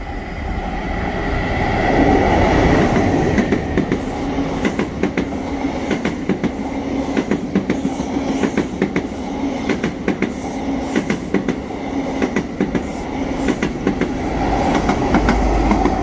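Hornby model train pulling MK3 coaches along an indoor loft layout, giving a steady, close rolling rumble with rhythmic clickety-clack from the rail joints throughout and no talking.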